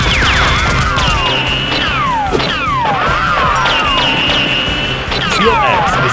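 Nerf guns fire in a staged mock battle between a SEAL character and bandits, heard as repeated sharp cracks and thwacks over a busy backdrop of sweeping, swooping effect tones and clutter.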